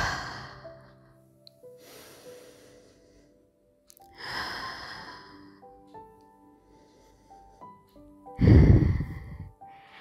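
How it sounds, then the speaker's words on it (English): Slow, deep breaths drawn in through the nose and released through the mouth during a guided meditation, several audible inhale-exhale cycles spaced apart, close and soft, with one stronger exhale near the end. "Breathe in deeply through your nose and out through your mouth."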